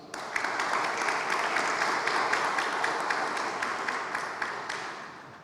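Audience applause at the opening of an exhibition on the 1962 elections, a continuous crowd of clapping with audible individual claps standing out, steady in volume and fading slightly at the end.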